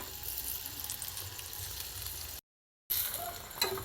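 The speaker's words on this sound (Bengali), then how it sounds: "এবার এপিটো একটু লাল করে ভেজে নেবো, হালকা করে তেল দিয়ে এটা ভেজে নেবো" A paratha stuffed with soybean filling frying in a pan with a little oil, giving a soft, quiet sizzle that breaks off briefly and then comes back with a few sharper crackles, no voices.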